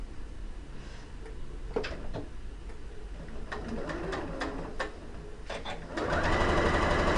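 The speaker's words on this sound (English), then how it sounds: "sew down the seams" A sewing machine runs close by, stitching down quilt seams with a continuous mechanical whir that grows louder near the end.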